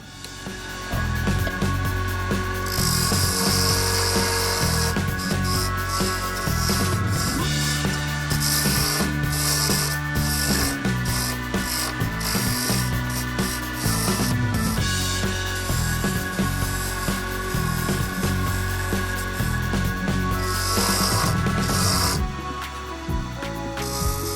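A wooden birdcage awl handle spins on a lathe while a tool cuts it, giving loud, continuous scraping and rasping with bursts of hissing shavings and a steady motor hum underneath, the cuts stopping and starting throughout.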